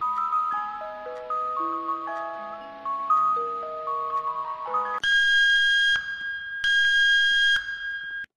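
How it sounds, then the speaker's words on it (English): An emergency alarm in the Roblox Camping game, loud and continuous: a descending run of steady electronic tones gives way to two long, harsh, buzzing alarm blasts separated by a brief gap, with no voices. "the alarm goes off in the middle of the night"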